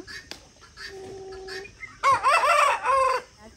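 A rooster crows and clucks nearby, with short clucks first and then a loud, wavering crow in the second half. Faint farmyard noise sits underneath and no one speaks.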